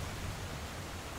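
Steady, dense rushing roar of a waterfall in the Uncharted video game, broadband and continuous at a moderate level with no talk over it.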